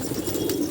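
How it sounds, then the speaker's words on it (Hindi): A big-tailed pigeon held in the hand gives a brief, low, steady coo, close and clear, with no talk over it. "बहुत बड़ी धुम का कबूतर है।"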